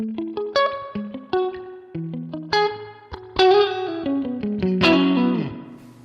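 An electric guitar through a Line 6 Pod Express spring reverb effect plays a sequence of plucked notes and chords, each trailing into a splashy, dripping reverb tail that rings out.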